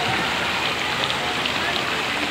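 Water pours down steadily from an umbrella-shaped fountain at a leisure park resort, a dense, even rushing splash like heavy rain, close and continuous throughout.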